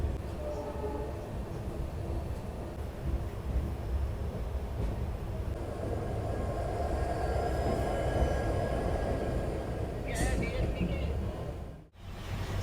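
A train rumbles steadily along the rails through a railway station in India with a continuous rolling roar, heard from onboard, ending in a brief sharp dropout.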